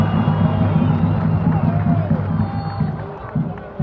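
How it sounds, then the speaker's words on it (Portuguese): A stadium crowd applauds and cheers a right-back named Dadinha during a Campinense squad presentation, with a dense, steady roar of clapping and voices close by that swells near the end. "lateral direito, uma salva de palmas para Dadinha."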